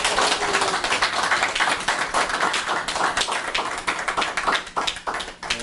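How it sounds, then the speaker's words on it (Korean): Audience applause in a Korean lecture hall for a female lecturer on women independence activists, dense overlapping claps sustained steadily throughout, fairly near, with no talk over it. "다시 한번 뜨거운 박수 부탁드립니다"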